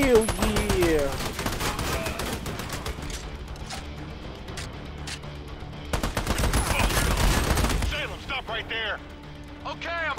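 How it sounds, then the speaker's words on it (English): Rapid machine-gun fire in the video game Army of Two, long rattling bursts of close, loud shots separated by brief lulls, with excited voices shouting throughout. "Where am I being shot at?"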